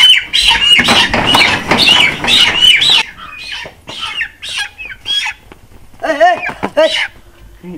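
Chickens in a village setting, loud close clucks and squawks in rapid bursts, thinning to scattered calls and a longer warbling cluck near the end.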